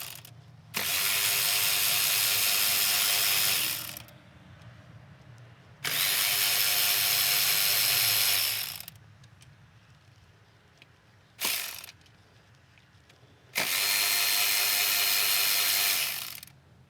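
Ratchet wrench spinning out 10mm-headed bolts from the aluminum top cover of a Subaru TR580 transmission valve body, four loud bursts of fast clicking separated by pauses, the third only a brief spurt.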